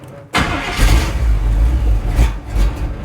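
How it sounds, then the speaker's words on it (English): A 1977 Chevy Monte Carlo with a carburetor that still needs adjusting cranks briefly and fires up, settling into a loud, close, rough idle that surges a couple of times, with no talking. "let's fire her up again and make sure everything's still good there"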